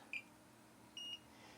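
Two faint, short electronic chirps from a Fluke 117 or Ideal 61-486 electrician's multimeter on continuity, a tiny blip followed by a slightly longer tone, quiet against a low background hiss.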